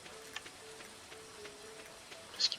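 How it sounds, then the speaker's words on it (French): Soft, steady rain falls in the Stardew Valley video game, a faint, even patter with a few light ticks and a brief brighter chime near the end. "Parce qu'il pleut."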